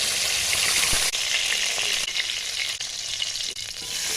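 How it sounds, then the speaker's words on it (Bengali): Fish fry in plenty of mustard oil with a little salt in a wok. The sizzle is loud, steady and close, with occasional stirring scrapes, and no one speaks. "কড়াইতে বেশ কিছুটা সরষের তেল দেবো, দিয়ে একটু নুন দিয়ে মাছগুলো ভালো করে ভেজে নেবো।"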